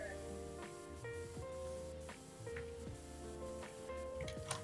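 Steady pressure-washer spray cleaning a tombstone in the Halloween map of the video game PowerWash Simulator, a continuous hiss under game music with occasional clicks; a player talks over it.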